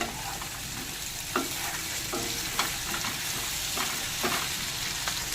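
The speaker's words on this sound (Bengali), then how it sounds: "আবারও নেড়ে ছেড়ে ভেজে নেব" Drained elephant-foot yam pieces go into a pan with frying onions and are stirred and fried, giving a constant low sizzle with periodic scraping sweeps of the spatula, close by and uninterrupted by speech.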